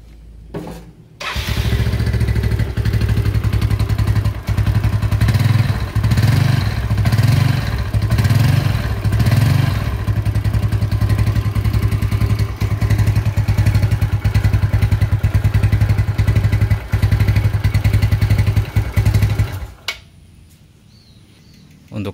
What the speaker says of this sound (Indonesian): kita cek untuk kondisi mesin dengan cara mesin kita hidupkan